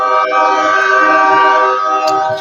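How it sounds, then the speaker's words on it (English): A train passing by, heard as a loud sustained tonal horn-like drone with layered harmonics that holds steady throughout, with no talking over it. "I'm sorry for the train which is going."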